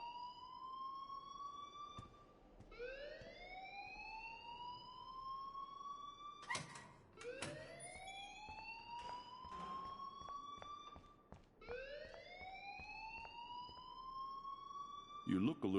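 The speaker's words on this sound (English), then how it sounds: "please turn off that alarm since that's your job" A siren-like alarm in the video game Life is Strange wails in repeated rising sweeps, loud and continuous, with a short break and some clattering mid-way.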